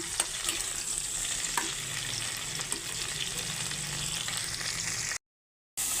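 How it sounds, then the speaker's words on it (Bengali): Steady crackling sizzle of cauliflower frying in a pan, with occasional scrapes and clicks of stirring, then a brief moment of silence near the end. "এখানে ফুলকপিগুলো এখন ভাজা হচ্ছে"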